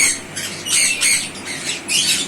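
A large macaw squawks repeatedly, harsh and close, in four or five rasping bursts with brief gaps between them.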